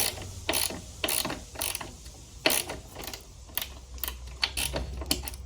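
A ratchet wrench loosening a bolt on a Honda CBR600RR motorcycle during a suspension and throttle upgrade: close, crisp bursts of rapid clicking, about eight short runs of ratcheting separated by brief pauses, with no talking.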